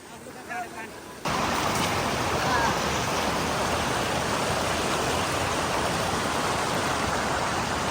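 The Tadi river in Nuwakot rushes past as a loud, steady wash of flowing water. It starts suddenly after a quieter second and then fills the rest of the clip at an even level.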